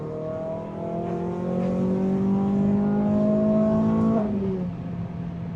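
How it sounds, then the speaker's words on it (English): A Renault Clio 200 engine revving hard while driving, pitch climbing steadily for several seconds before dropping at a gear change, loud and close from inside the car. "the revs just keep going"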